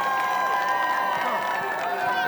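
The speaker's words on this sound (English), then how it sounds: "To hear the crowd, here they are." Supporters at a U16 youth soccer match between LA Galaxy and San Jose Earthquakes cheer and shout together, a steady, loud, dense crowd roar with high voices throughout.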